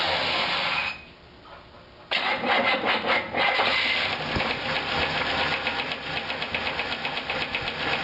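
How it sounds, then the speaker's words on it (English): A 1965 Buick Skylark 300 V8 cranks, catches and settles into a loud, steady running rhythm with a faint repetitive engine knock, close up and with no talking. "There's a little bit of an engine knock"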